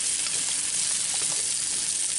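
Rabbit pieces brown in a Dutch oven with a continuous, even, close sizzle of hot fat, steady and fairly loud without pause.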